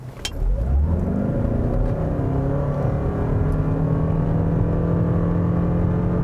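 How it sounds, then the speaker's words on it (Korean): A Lexus NX 450h+ hybrid SUV in sport mode accelerates hard, its engine rising from a low rumble into a loud, sustained climbing whir and roar that holds steady throughout. "오토에다 두고 스포츠 모드에서 급가속을 해보겠습니다"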